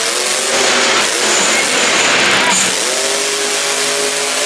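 Monster truck engine at a Monster Jam freestyle in Cardiff, revving hard and steady through a power wheelie, loud and sustained with crowd and arena noise around it.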